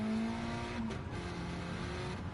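A Honda race car powered by a Civic Type R engine in Gran Turismo 7 on Grand Valley, a high tonal engine whine shifting pitch as it revs, fairly faint and steady.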